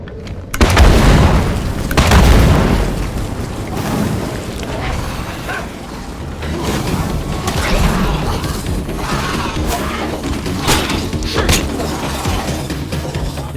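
A thrown grenade detonates in the zombie survival game State of Decay 2, heavy booms near the start followed by dense, rumbling in-game noise that continues throughout.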